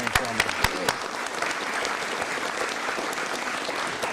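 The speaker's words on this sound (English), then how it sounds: "Let's give him a round of applause." Audience at a town hall meeting breaks into sustained applause, a dense wash of clapping with a few sharper claps near the start, steady and fairly loud throughout.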